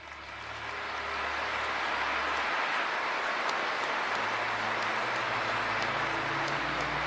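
An audience at a religious entrance ceremony at the Cheon Il Sanctuary of Cheon Won Gung applauds, the clapping swelling in the first second and then holding as a dense, steady roar.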